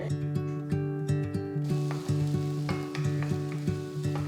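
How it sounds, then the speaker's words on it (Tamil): Steady hissing sizzle of finely chopped garlic frying in hot oil, with a rhythmic repeating scrape or stir every half second. "எண்ணெய் சூடானதும் பொடுசாக நறுக்கின ஒரு டேபிள் ஸ்பூன் பூண்டு சேர்த்து"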